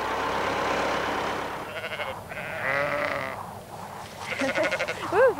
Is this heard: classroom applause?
no